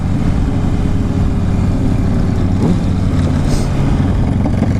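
Honda CBR600RR motorcycle engine on a test ride, a loud, steady droning hum with strong low tones and rushing wind noise, continuous and close with no voices.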